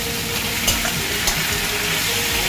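Pumpkin and potato pieces fry with turmeric in a pan, giving a loud, steady sizzle with occasional scraping knocks as they are stirred.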